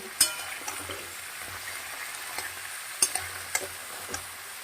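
Vegetables and jackfruit seeds are stirred together in a pan for a vegetarian dish, a quiet frying hiss broken by a few sharp taps of the spoon at irregular intervals.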